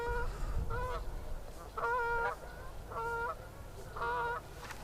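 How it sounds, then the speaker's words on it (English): Geese honk repeatedly near water during a fly-fishing outing, a series of nasal calls in roughly regular bursts over a constant low rumble, moderately distant and fairly faint. "There go the geese."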